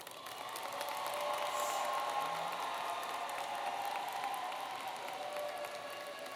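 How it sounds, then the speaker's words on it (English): A graduation audience gives a sustained round of applause that swells and holds, a dense wash of clapping from a large crowd filling the hall. "Please join me in giving them a well-deserved round of applause."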